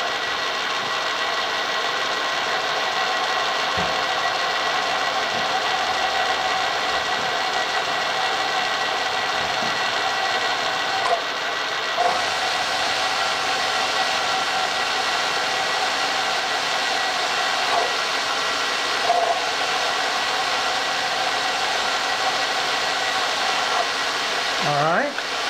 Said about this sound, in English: I'm just going to drill about 3/4 way down